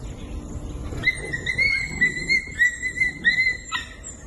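Stray dogs on a town street in Kankavli give a run of high yelping, whining cries over a background of traffic and street noise, fairly close and lasting a few seconds.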